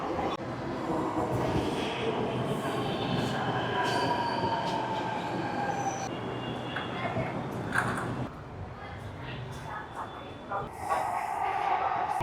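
A Delhi Metro train rumbles steadily with wheels squealing on the rails, while people talk underneath the noise of the moving carriage.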